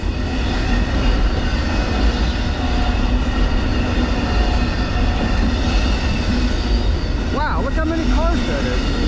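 A long southbound Amtrak Auto Train rumbles steadily past Palatka train station nearby, a continuous heavy roar of cars rolling on the tracks, with brief squealing wheel sounds near the end.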